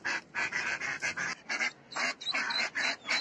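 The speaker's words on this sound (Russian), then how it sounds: "В конце мая у утки кряквы вылупилось четверо утят" A mallard duck leading four young ducklings back to their house in a safari park, giving a rapid series of loud, close quacks in uneven bursts, about a dozen calls with brief gaps.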